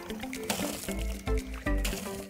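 Water from an emergency well hand pump pours through a 90-degree elbow into a bucket, gushing in uneven surges with splashing and gurgling, close and fairly quiet.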